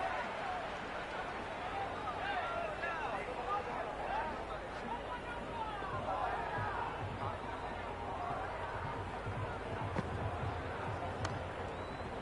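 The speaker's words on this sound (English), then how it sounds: "Will you listen to that crowd? They are loving this." Steady stadium crowd roar and chatter from the Cricket 26 video game during a T20 World Cup final between India and New Zealand, a dense, continuous hubbub filling the whole stretch.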